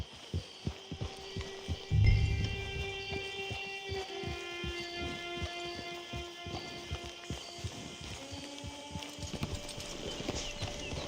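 Steady clip-clop of horse hooves in Red Dead Redemption 2 Online, a rhythmic walking gait, close and clear, over a low musical hum, with a brief thump near the start.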